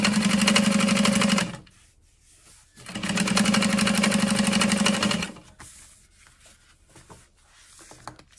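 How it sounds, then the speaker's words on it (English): Sewing machine backstitching across the corners where a clear carry-all's exterior and lining meet, running in two steady motor bursts of about a second and a half and two seconds, with quiet handling between and afterward. "backstitching where they connect the exterior and the lining"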